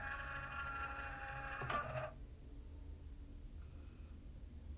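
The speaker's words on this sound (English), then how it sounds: "that motor I can hear is this motor for the laser sled" A Marantz CD-150 CD player's laser sled motor runs with a faint, thin mechanical whine for about two seconds, then stops, leaving near silence.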